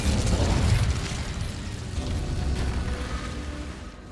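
An Incendio fire spell in Hogwarts Legacy erupts as a loud, close fiery burst with a deep rumbling whoosh that rolls on and slowly fades over several seconds.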